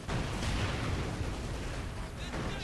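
Mortar fire in the WWII strategy game Company of Heroes 2: dense, rumbling blasts and booming impacts blend into a continuous loud barrage, with someone talking over it.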